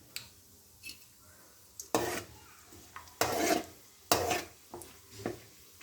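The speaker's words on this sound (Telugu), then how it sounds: "ఇప్పుడు డ్రై ఫ్రూట్స్ వేసుకున్నాం. ఈ ఫ్రై అయినాక తీసుకుందాం." Dry fruits frying in ghee in a pan make a faint sizzle, broken by several loud scraping stirs of a spoon against the pan at irregular intervals.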